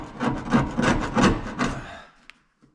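Leftover silicone scraped off a sandblasted metal windshield frame, several loud rasping strokes in quick succession close by, then silence broken by a couple of faint clicks.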